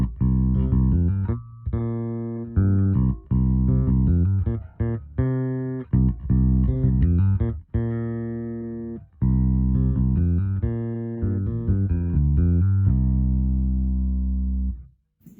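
Brice Defiant bass fitted with Nordstrand Big Blades single-coil pickups, played as a run of punchy, clear low notes in a steady rhythmic line, loud and close with no talk.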